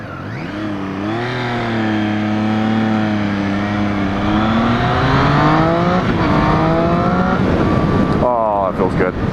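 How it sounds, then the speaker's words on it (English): A 2014 Triumph Street Triple ABS motorcycle's triple engine climbs through the revs under acceleration with a rising whine, easing briefly and pulling again, then shifting up near the end, with wind noise throughout. "I love the Triumph's like triple whine."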